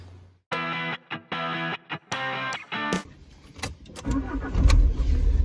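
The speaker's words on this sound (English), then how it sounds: "let's go for a little drive with the roof off." A 1996 Alfa Romeo Spider with the roof off cranks in several choppy bursts, then the engine catches and revs as the car pulls away, the engine note growing louder and rougher.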